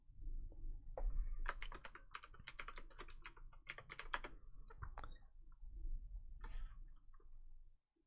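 Steady typing on a computer keyboard during game-development work in Unreal Engine 4, with fast irregular bursts of key clicks that continue for most of the clip and stop just before the end, quiet and close.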